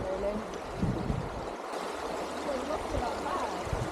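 A stream flows at a river crossing in remote Welsh countryside, a steady close babble and trickle of water, with people's voices heard faintly over it at moments.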